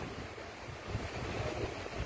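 A steady, airy whoosh from a Mitochiba electric fan running on its lowest speed setting, continuous and even, with no talking.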